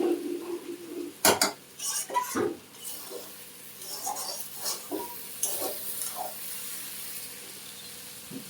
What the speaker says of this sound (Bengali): চাউমিনটা একটু নেড়ে চেড়ে দেব।